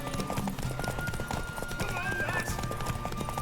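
Hoofbeats clip-clop steadily from a horse galloping in The Witcher 3, with a whinny breaking through and game voices speaking over the rhythmic thudding.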